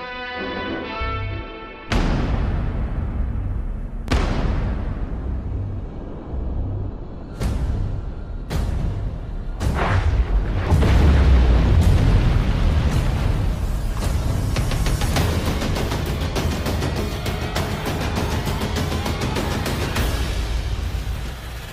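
Naval depth charges explode one after another in a series of heavy booms. They build into a continuous roaring rumble that stays loud and dense to the end, with no voices.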